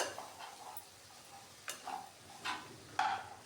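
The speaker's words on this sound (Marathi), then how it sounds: "आता हे आपण मिक्स करून घेऊया" Chopped okra being stirred with salt in a pan, giving a few soft scraping strokes with faint sizzle, brief and quiet, spaced irregularly with no talk.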